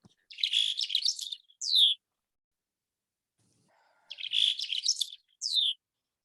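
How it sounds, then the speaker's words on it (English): Two short bursts of Mexican chickadee song in Arizona, each a rapid buzzy warble followed by a quick down-slurred note, close and clear with silence between. "The Mexican chickadees started singing near us,"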